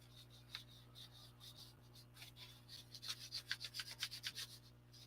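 Red glazing putty being spread over a puppet's surface, giving soft, faint rubbing and scraping strokes that come in short repeated passes and grow quicker and more distinct toward the end, over a low steady hum.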